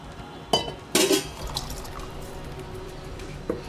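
Water splashes into a rinsed blender jar while egg curry is being made, a few short bursts of pouring and sloshing against glass followed by quieter dripping, close and fairly loud, with no talking.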